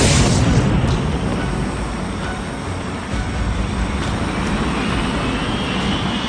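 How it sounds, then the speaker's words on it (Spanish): Whittle's early jet engine roars loud and unbroken during a 1937 test run as it overspeeds from too much fuel in the combustion chamber, a dense, rushing blast with a faint rising whine. "El motor se revoluciona demasiado."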